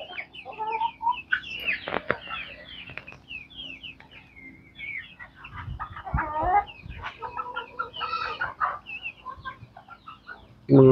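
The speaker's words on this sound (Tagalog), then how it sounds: "Mga manok natin." Chickens clucking close by, a busy overlapping chorus of short clucks and squawks from several birds, with a louder outburst near the end.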